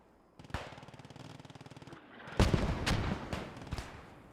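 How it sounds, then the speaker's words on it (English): Mortar fire in the WWII shooter Post Scriptum: a rapid mechanical rattle of distant automatic fire, then several loud, sharp blasts landing close together in an irregular cluster. "Here comes the mortars."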